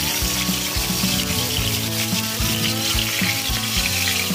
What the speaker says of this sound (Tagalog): nagprito din tayo ng tuyo